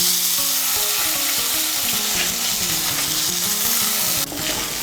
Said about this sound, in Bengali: মুগ ডালটাকে তেলের সঙ্গে মিশিয়ে নেব। মিশিয়ে নিয়ে একটু লাল করে ভেজে নেব।